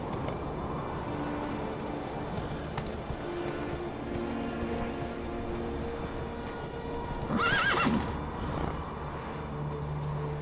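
Roach, the horse in The Witcher 3, galloping off-road with steady hoofbeats under continuous ambient noise, and a loud neigh near the end.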